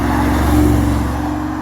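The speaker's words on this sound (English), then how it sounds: "we now have a G-Wagon coming in" A Mercedes G-Wagon rolls in with a steady, close engine drone holding an even, low hum, with no voices over it.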